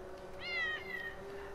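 A single drawn-out meow from a cat in the game GTA V, clear against a faint steady background hum, with no talking.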